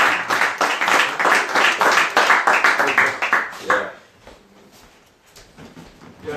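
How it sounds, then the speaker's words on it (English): A small gathering at a pizza party claps for a speaker, a few close hands clapping briskly for about four seconds before fading out into quiet room noise. "let's give Tom a round of applause"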